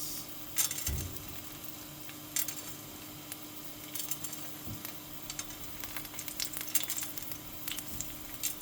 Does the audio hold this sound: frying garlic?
yes